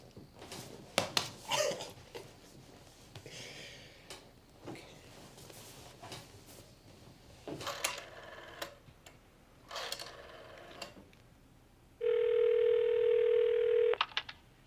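A telephone for the Exploration Group goes unanswered; scattered clicks and knocks precede a loud, steady electronic tone of about two seconds before the answering machine takes over, no one speaking.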